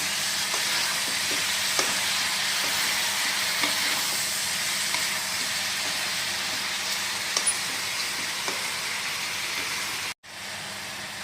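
Chicken pieces fry in a pan for chicken curry, a steady close sizzle with occasional stirring clinks, cutting off abruptly near the end.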